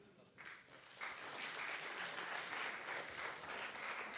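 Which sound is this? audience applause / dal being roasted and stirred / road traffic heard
audience applause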